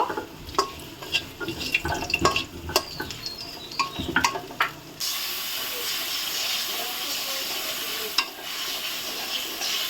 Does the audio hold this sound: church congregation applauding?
no